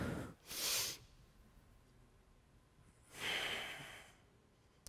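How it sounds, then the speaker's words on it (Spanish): A person breathes during an advanced vinyasa yoga practice, with two distinct audible breaths, each about a second long and separated by a quiet pause, close and moderately soft with no talk. "Entonces vamos a inhalar."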